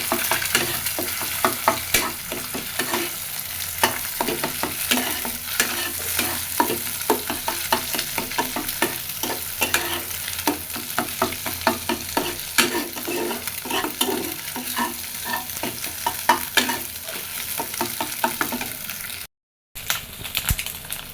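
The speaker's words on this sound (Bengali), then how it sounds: "খুব ভালো করে ডিমটা ভাজা হয়ে গেছে" Egg frying in a wok with salt, a close, continuous crackling sizzle broken by repeated scraping stir strokes, briefly cutting out near the end.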